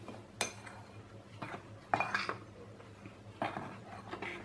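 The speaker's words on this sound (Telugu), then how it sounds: "దీన్ని మనం ఇప్పుడు పొడిపిండిని ఇప్పుడు బాగా కలిపేసుకుందాం" Dry rice flour mixed with other ingredients by hand in a bowl, giving soft scrapes and a few sharp clinks of the bowl spread over a few seconds, quiet and close.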